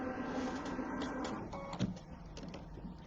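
A sewing machine fitted with an embroidery foot stitches around a quilt piece, giving a quiet, steady mechanical whir with a light rapid ticking and one brief louder clunk.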